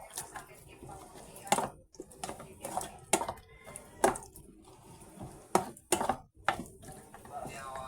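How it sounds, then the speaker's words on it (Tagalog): A knife chops onion and garlic for Bicol Express, striking a board in irregular, fairly close thuds and taps, with some light kitchen clatter between cuts. "maghiwa-hiwa na rin ako ng gulay"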